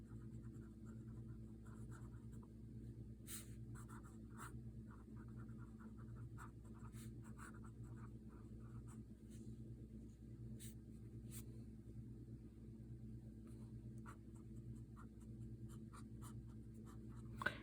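Fine scratching of a Leonardo Momento Zero fountain pen with an extra-fine nib moving across paper, soft strokes with slight feedback repeating steadily under a low, constant background hum, no talking.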